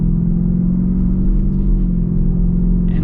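Supercharged V8 of a 2025 Ford Raptor R rumbles steadily and loudly up close, a deep, even low drone without revving peaks for a few seconds, no voices.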